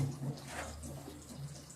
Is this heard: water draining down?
yes